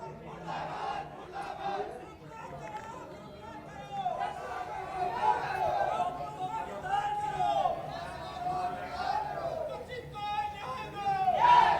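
A crowd of protesting relatives gathers outside SMS hospital, a dense babble of many voices with shouts and raised cries swelling and fading, heard at moderate distance.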